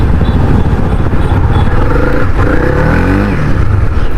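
A Honda CB300R motorcycle rides off with a steady, close engine drone and rough road rumble, the tone rising slightly as it accelerates, with no talk over it.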